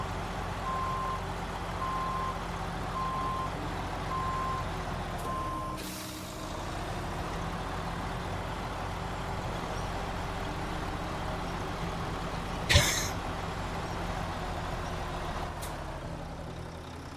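A heavy truck in the SnowRunner video game, playing in Quebec, rumbles with a steady engine drone throughout, broken by a short beeping tone, a brief hiss and a sharp burst near the end; no one speaks.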